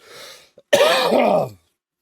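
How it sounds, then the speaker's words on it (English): A short throaty sound, then one loud rough cough lasting under a second, close to the microphone, followed by silence. "There's that cough coming back."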